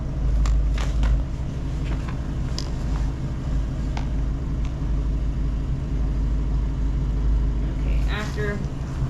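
A 1968 Mustang fitted with Holley Sniper EFI idles after startup with a steady, loud low rumble, while a voice talks over the engine throughout.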